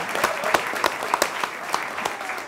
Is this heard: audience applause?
yes